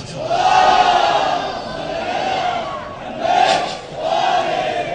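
A crowd at a Husayniya gathering for the Prophet's birthday chants a salawat blessing loudly in unison, swelling in two or three long rising waves of massed voices that fill the room.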